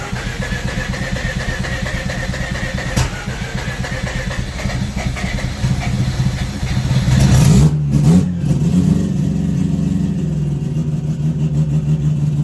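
A rough-running turbocharged bridgeported Mazda Renesis rotary engine needing new plugs cranks and catches, then revs up sharply with a few throttle blips before settling into a steady, loud idle.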